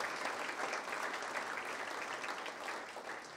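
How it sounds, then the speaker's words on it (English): An audience at an infrastructure and skilled-trades panel applauds two panelists, a steady, dense wash of many hands clapping together that holds evenly throughout and tapers only slightly at the end. "So a round of applause for our two panelists out of the three"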